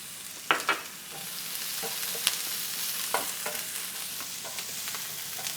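Onions sizzle with a pinch of salt in a pan, a steady quiet fry broken by a few sharp clicks and stirring scrapes near the start.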